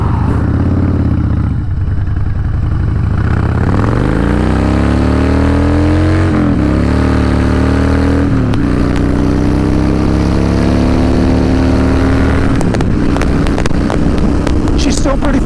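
A 2012 Harley Davidson Dyna Wide Glide rumbles close up, its V-twin engine revving with rising and shifting pitch through gear changes, loud and continuous under riding noise.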